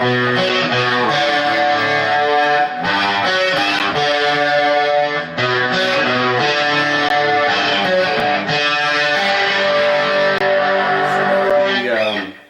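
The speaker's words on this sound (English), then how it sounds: "you could go with distortion and chorus" An electric guitar plays sustained chords through distortion and a shimmering chorus effect, loud and continuous throughout.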